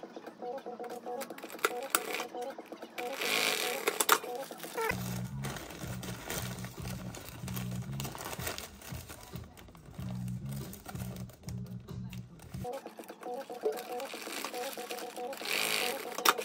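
Sewing machine stitching two fabric panels of a homemade compression bag for bikepacking together at the drawstring section, running in two bursts of rapid, rhythmic mechanical stitching separated by a brief pause, with quieter handling noise before and after.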